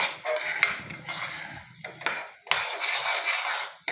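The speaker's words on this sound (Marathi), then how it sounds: "एक 8-10 मिनिट याला असं आपण मिक्सिंग करत राहायचं आहे" Upma stirred in a pan over a low gas flame, sugar-diet style, with a spoon scraping and clinking against the metal in steady strokes and short pauses, close and moderately loud.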